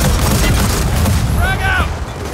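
A grenade blast and gunfire in Gears of War 4 combat, loud continuous rumbling bursts with a sharp effect and voice layered on top near the end.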